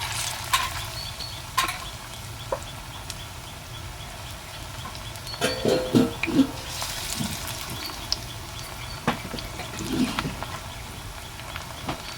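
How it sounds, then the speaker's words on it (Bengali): Pointed gourd (potol) frying in a pan over a medium flame, a low steady sizzle with scattered utensil knocks and a brief burst of stirring. "চুলার ফ্লেমটাকে আপনারা কিন্তু মিডিয়ামে রাখবেন দিলে খুব সুন্দর করে এপিড ওপিড লাল লাল করে মুচমুচে করে পুরো ভাজা হয়ে যাবে"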